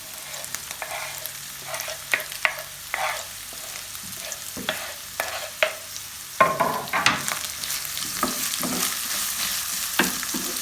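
Minced meat and onions sauté in a pan, a constant crackling sizzle broken by repeated scraping stirs of a spatula, close up and growing busier toward the end.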